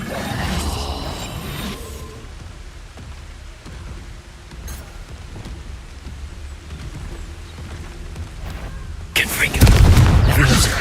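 Expulso explosion spell in the video game Hogwarts Legacy: combat noise and scattered impacts build to a loud, deep blast near the end, with rumbling spray and debris after it.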